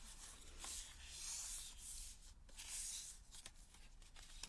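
A cut paper piece is rubbed down onto a scrapbook page, giving a soft, steady scratchy friction with a few light taps, close and quiet.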